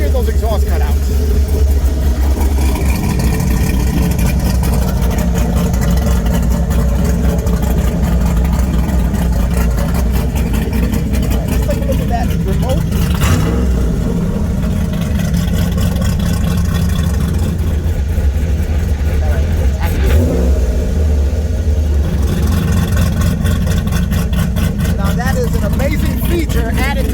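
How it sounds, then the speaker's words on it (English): An LS4-swapped Pontiac Fiero with remote-controlled exhaust cutouts open runs loud and close, its deep engine note holding steady with a couple of sharp revs midway, while a voice talks over it throughout. "Let's hear those exhaust cutouts."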